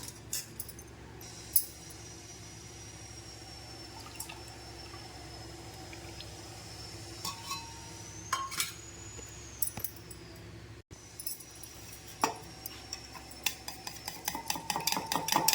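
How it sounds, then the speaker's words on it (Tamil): Eggs beaten in a large vessel for an omelette, quiet clinks and scraping taps of a utensil against the bowl, sparse at first and then a quicker run of light knocks near the end. "நல்லா கலக்கிக்கோங்க முட்டை கலக்கிறதுக்கு கொஞ்சம் பெரிய பாத்திரமாக எடுக்கணும்"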